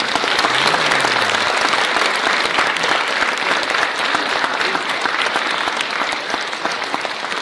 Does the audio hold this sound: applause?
yes